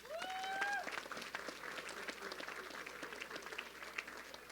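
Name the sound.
applause from dinner audience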